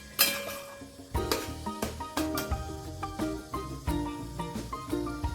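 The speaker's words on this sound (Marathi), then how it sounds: "पनीर आता आपण चांगलं परतत राहूया आणि छान आपले पनीर मोदक आपल्या गणपती बाप्पासाठी तयार करूया।" Paneer is stir-fried in a pan over low heat for modak, with a quiet sizzle under a regular run of spatula clinks and scrapes against the pan, close up with no talking.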